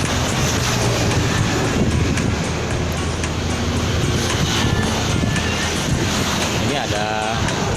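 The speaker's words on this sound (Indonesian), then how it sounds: "roda 2 dan roda 4 pun sangat berisik sekali melintas di jembatan Mahakam ya" Motorbikes and cars crossing the Mahakam bridge: a steady loud roar of passing traffic with rumbling low end and whooshing noise, continuous throughout, with faint voices in the mix.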